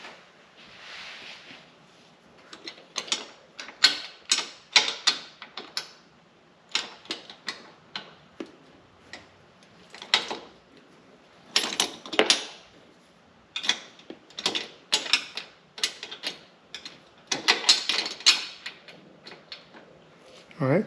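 Ratchet clicks come in short irregular bursts as a T25 Torx screw is driven in on a 2022 Can-Am Commander wing mirror, close and crisp with pauses between runs.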